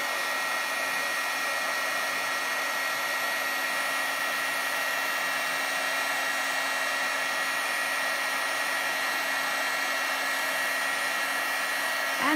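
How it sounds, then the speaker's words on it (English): Heat gun used for heat embossing in a watercolour craft project, a loud, steady whirring blow with a constant whine, running unbroken for about twelve seconds. "So then you just heat emboss it."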